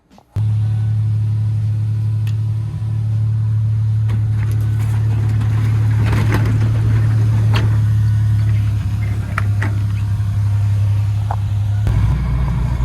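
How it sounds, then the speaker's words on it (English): Lexus SC300 with a relocated battery and a failed power steering line, driving along with a loud, steady low engine rumble that holds throughout, alongside faint clicks and rattles from inside the car. "I'm sitting here driving this car right now with the battery in it"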